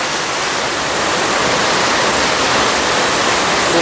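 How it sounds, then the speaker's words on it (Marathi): Thoseghar waterfall roars as a loud, continuous, dense rush of falling water, heard close up from a cave behind the falls. "पुढे धबधबा आहे"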